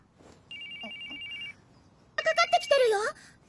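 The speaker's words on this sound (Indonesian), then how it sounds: "Lalu tiba-tiba telepon dari Mitsuki berbunyi" A telephone rings with a steady electronic tone for about a second, then a voice speaks loudly over a quiet background.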